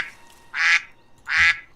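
A duck quacks twice in Civilization 5, two loud, clear, evenly spaced calls over quiet background hum.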